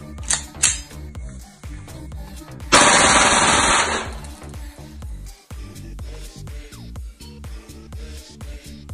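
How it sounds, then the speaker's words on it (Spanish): An Ekol Jackal Dual Compact traumatic pistol fires in burst mode: sharp close shots ring out, then a rapid loud burst, followed by scattered mechanical clicks and clatter. "Vamos a disparar una pistola Ecol traumática que dispara ráfaga."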